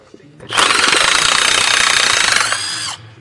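A power tool fitted with a 15mm socket hammers at a rusty bolt on a second-generation Mercury Mariner or Ford Escape lower control arm, a loud close rattling burst lasting about two and a half seconds.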